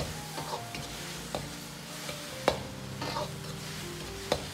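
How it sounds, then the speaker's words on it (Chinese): Tomatoes stir-fry in hot scallion-infused oil with ginger and scallion, a steady broad sizzle broken by occasional clacks of a spatula against the wok, close and even throughout with no voices. "炒香后下入西红柿煸炒，稍微时间煸炒长一点"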